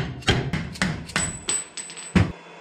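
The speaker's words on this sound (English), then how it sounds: "A dead blow hammer, we'll give it a tap from the top." A dead blow hammer taps a bearing off a pump shaft held in soft vise jaws, striking about six times in an uneven rhythm, each blow a dull, close knock with a short decay.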